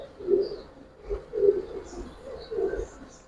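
Giribaz pigeons cooing close by, with three or four low, rounded coos in a slow, uneven rhythm and faint chirps from other birds above them, with no talking.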